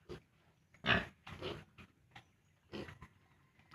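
A mother pig, kept temporarily in a makeshift spot on a farm, gives a handful of short, scattered grunts and snorts nearby, fairly quiet, with silence between them.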